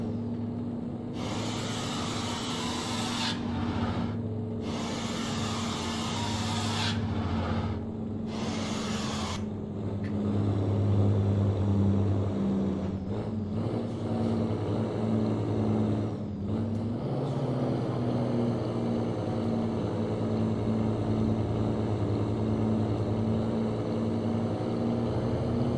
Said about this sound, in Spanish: Ese freno del motor que canta y canta